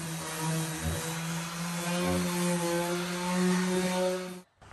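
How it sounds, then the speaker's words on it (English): A power sander with 120 grit sandpaper works the edges of a jon boat transom, a loud steady motorized whine and hum held close for several seconds before cutting off abruptly, with no talking. "now I'm going to hit it with like 120 grit sandpaper just to, on the edges, make sure ain't nothing rough or flaky"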